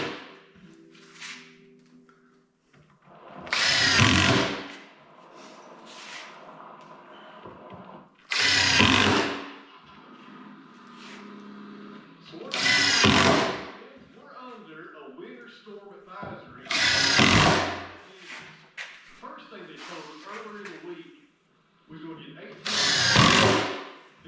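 A power drill drives screws into the wood joints of a small outdoor shelter, with five loud whirring bursts spaced a few seconds apart. Someone talks between them.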